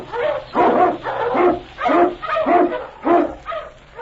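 Eskimo sled lead dog of the Yukon barking in a radio drama: a steady run of about seven loud, close barks, evenly spaced, with no talk over them.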